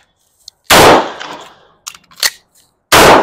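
Loud, close M9 pistol shots at 10 feet during a one-reload-one drill: one sharp report, a pause with reload clatter, then a second blast.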